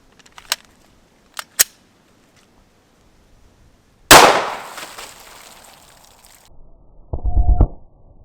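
A single 9mm shot of 115 grain Remington UMC ammunition is fired into meat and bone outdoors, one loud sharp crack with a lingering echo, preceded by a few small clicks and followed by a brief low rumble.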